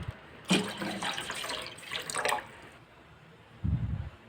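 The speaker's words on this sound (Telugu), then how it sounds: "గిన్నె తీసుకొని ఇందులో వాటర్ అనేది పోసేసుకోండి" Water poured into a cooking pot for boiling pasta at home, a short splashing burst near the start and a brief low gush again near the end, close and fairly quiet.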